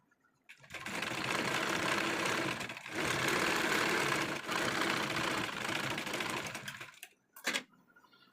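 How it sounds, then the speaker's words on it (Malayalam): A sewing machine runs steadily as it top-stitches the folded edge of a sleeve, a close, continuous mechanical whir in three long bursts with brief pauses between them, then a short final burst before it stops. "ഞാൻ അരികു വശം ഒന്ന് പതിച്ച് സ്റ്റിച്ച് ചെയ്ത് കൊടുക്കുന്നുണ്ട്."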